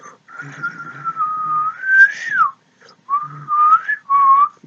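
A person whistling in imitation of Yondu's arrow-control whistle, a loud, close, clear tone that rises and wavers in three sliding phrases with short pauses between them.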